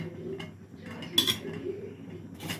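A lid is set on a cooking pot of eggplant, drumstick and tomato curry, making a few light metallic clinks, one sharper clatter partway through and a last clink at the end, against a quiet room.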